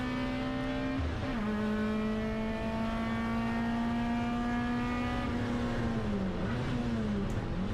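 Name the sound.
BMW race car driving into hairpin, from a racing video game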